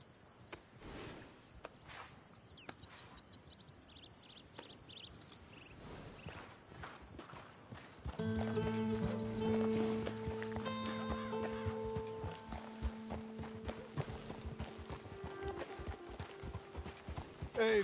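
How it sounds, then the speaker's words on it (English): Horse hooves clip-clopping at a walk in the Red Dead Redemption 2 video game, a steady near rhythm under ambient game sound, joined midway by a sustained musical tone. "Look at that horse there."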